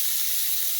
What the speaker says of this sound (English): I've already placed my bacon in the frying pan and I'm going to fry it until it's brown.